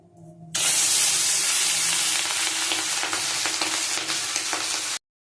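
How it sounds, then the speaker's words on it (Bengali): Hilsa fish coated with salt and turmeric frying in hot oil in a wok, a loud, steady broadband sizzle that starts abruptly after a quiet moment and carries on with crackling spatters, no voices. "এই দেখো কড়াইতে তেল গরম বসিয়েছি, এবার হালকা করে ভেজে নেব"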